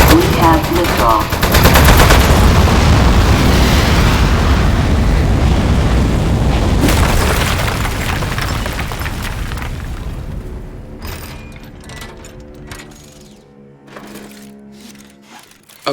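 Rapid gunfire and booming blasts in the video game Aperture Desk Job fill the first half as a loud, dense barrage, then thin out and fade into scattered quieter pops and electronic tones.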